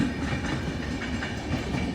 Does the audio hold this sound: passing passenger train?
yes